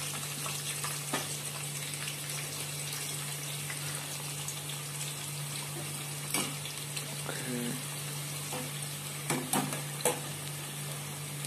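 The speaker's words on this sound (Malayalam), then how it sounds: "സവാള വറുക്കാം" Onions frying in oil for a Hyderabadi beef dum biryani give off a steady, close sizzling hiss, with a few brief clinks from stirring.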